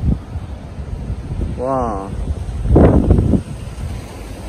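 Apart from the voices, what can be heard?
wind blowing at a seaside resort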